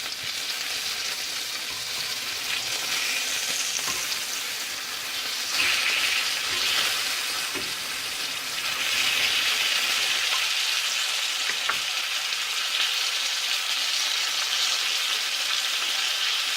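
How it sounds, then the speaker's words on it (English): Plaice frying in olive oil and plenty of butter, a steady close hiss and crackle of sizzling fat that swells and settles over the length of the clip, with no voice over it. "we fry our plaice in some olive oil and plenty of butter"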